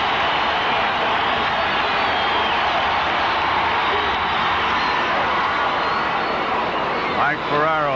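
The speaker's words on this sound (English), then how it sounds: "Listen to the crowd." A packed stadium crowd roars during the ninth inning of the 1981 ALCS Game 3, Yankees at Athletics, with the bases loaded. The noise is loud and sustained throughout, with a brief voice near the end.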